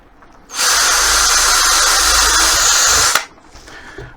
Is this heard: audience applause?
no